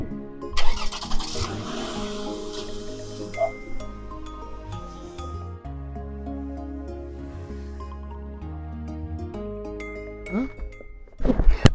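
A small city car's engine cranks and catches, then settles into a steady running hum beneath music and people talking inside the car.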